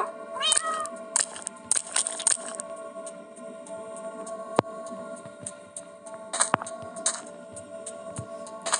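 Minecraft cats meow in the game, with a few short, high, wavering meows near the start and more later, over a steady tonal backdrop and scattered clicks.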